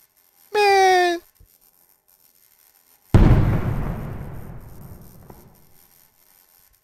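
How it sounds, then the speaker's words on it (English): In the video game Hotel Remorse, a sharp, loud gunshot-like blast rings out and decays slowly into a long reverberant tail, following a short tonal whine a few seconds earlier. "Did I just hear another gunshot?"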